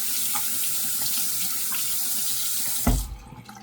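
A bathroom tap runs steadily for rinsing after a wet shave, a continuous close hiss of water that cuts off abruptly with a thud near the end.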